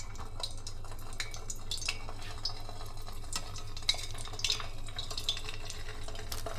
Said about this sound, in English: Once the oil is hot enough, place your potato slices in.